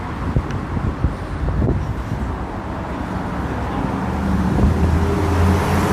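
Steady traffic roar on Robson Street, a busy retail street in Vancouver, with cars rumbling past close by and some wind buffeting the microphone, the low drone swelling louder toward the end.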